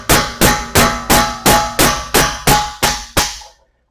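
Hammer tapping a Honda Accord outer tie rod end, eight sharp metallic strikes at an even half-second rhythm, close and loud, each ringing briefly before the next, then silence.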